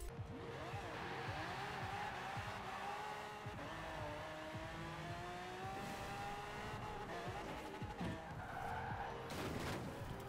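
A drag car with about 2,300 hp per tonne accelerates hard in Forza Horizon 4, its engine note climbing through gears over tire squeal, steady and fairly quiet throughout.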